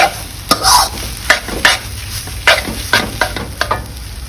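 Mee sua noodles stir-fried with light soy sauce in a sizzling pan: a spatula scrapes in quick, uneven strokes over a steady fry, close and loud.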